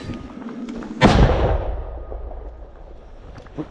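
A single loud artillery shot booms out sharply in a combat zone, then its deep rumble slowly fades over the next few seconds with no voices.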